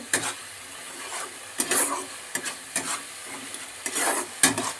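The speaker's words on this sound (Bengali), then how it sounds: "এবার আবার কষিয়ে নিচ্ছি কাঁচা লঙ্কা আর আদার গুঁড়োটা দিয়ে" Green chilli and ginger paste being sautéed in a pan for ghugni, a spoon scraping and stirring in repeated strokes over a soft sizzle, close and distinct.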